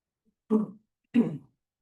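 A sick adult clears the throat and coughs in two short, separate bursts, close and alone in otherwise quiet surroundings.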